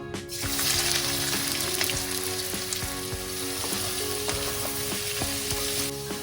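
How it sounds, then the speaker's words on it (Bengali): Sliced onions poured into hot oil and frying for a chicken dish, a loud, steady sizzle that holds across the whole stretch with small crackles and pops, close to the pan, no voices. "এবার আমি স্লাইস করা পেঁয়াজটা পুরোটা ঢেলে দিচ্ছি।"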